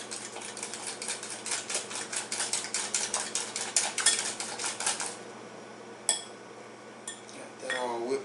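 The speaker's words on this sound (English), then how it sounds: "Got that all whipped up pretty good. Hopefully my little whisk is going to stay there." A small whisk beats a mixture in a bowl with quick, steady metallic clinking and tapping that runs for several seconds, then stops, leaving a few isolated clicks and a brief scrape.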